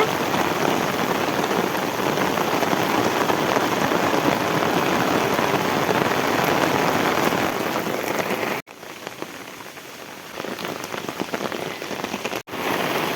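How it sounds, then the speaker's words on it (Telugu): Heavy rain pours steadily onto a cement road, a dense, continuous hiss that briefly drops off twice near the end. "రోడ్డు మీద నేను చూడండి వర్షం ఎలాగొచ్చేస్తుందో"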